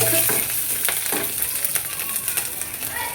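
Chillies and curry leaves sizzling in hot oil in a home kitchen pan; steady crackling fry with scattered sharper pops and a faint stirring clatter, no talk.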